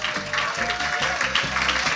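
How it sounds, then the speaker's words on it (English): An audience at a creative writing competition awards ceremony applauds, a steady patter of clapping heard close and fairly loud for its whole length. "Clap these folks who get 6 awards."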